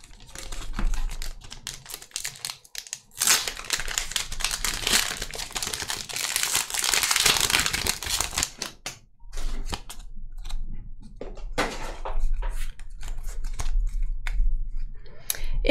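Pokémon card booster packs are torn open by hand, the foil wrappers crinkling and crackling close up in irregular bursts, with a louder sustained rustle in the middle and short pauses between.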